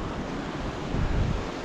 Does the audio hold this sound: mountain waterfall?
yes